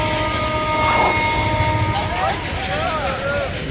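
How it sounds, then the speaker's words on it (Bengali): A long freight train rolls past a crowded railway crossing, a continuous rumbling roar with wavering tonal squeals and rattles, while people talk and shout nearby. "দেখুন ট্রেন পার হচ্ছে এখানে।"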